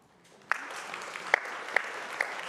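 An audience at a technical program management summit claps, building into a sustained, fairly soft round of applause with a few sharper individual claps standing out above the crowd.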